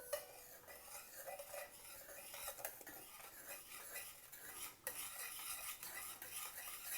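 Urad flour and rice flour stirred into boiling water in a pot make faint scraping and soft clinking of a utensil against the vessel. Bubbling runs underneath, with a sharper knock near the end.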